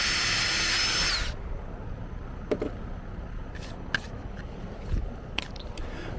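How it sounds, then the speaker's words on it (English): Power drill boring holes in lawn mower discharge chute repair pieces: a loud high whirring run for about a second, then stops, followed by scattered clicks and handling noises. "I'll start out by drilling the holes in both of my repair pieces"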